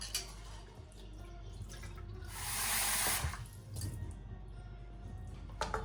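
Water is poured steadily into a cooking pot of lentils, a continuous splashing flow that swells briefly in the middle, close up with no voices.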